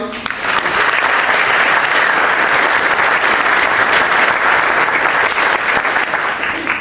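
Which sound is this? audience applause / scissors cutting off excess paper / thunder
audience applause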